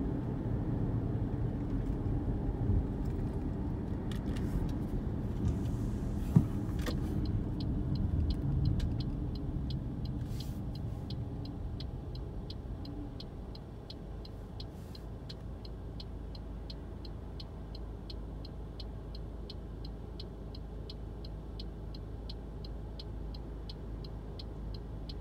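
A car drives through Apia, Samoa, with a steady low road rumble and engine hum throughout, a few brief clatters early on and a faint regular ticking later, fairly quiet and without talk.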